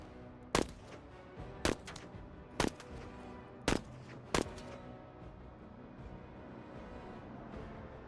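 Five separate sharp gunshots in a video game, spaced about a second apart, cracking loudly over a quiet background with a lull after.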